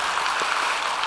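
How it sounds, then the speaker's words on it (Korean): A congregation at an autumn evening prayer service in a church claps for the worship choir, giving a brief, steady burst of dense applause with no one talking over it. "다시 한번 우리 찬양단을 위해서 큰 박수로 한번 축복해 드릴까요?"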